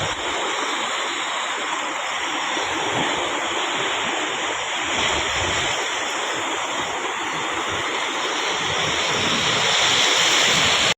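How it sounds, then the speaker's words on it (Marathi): Sea waves on the Konkan coast at Gogar make a continuous broad wash of surf, steady and fairly loud, with wind buffeting the microphone and no clear breaks between breakers. "हा आमचा गॉगरचा समुद्र."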